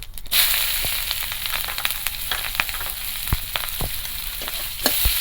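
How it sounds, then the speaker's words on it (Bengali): Chopped onion and slit green chilli fry in oil with whole cumin, giving a steady close sizzle scattered with sharp pops and crackles and a few stirring scrapes, with no talk. "পেঁয়াজটা একটু ভাজা ভাজা করে নেব"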